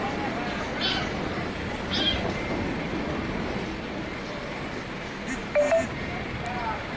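A few faint, high kitten meows rise briefly over a steady background hiss, with one slightly louder cry near the end.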